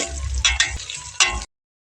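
Chopped onion sizzling in hot oil in a pan for khichdi, with a steady frying hiss broken by a few louder bursts as it is stirred, close up, ending abruptly.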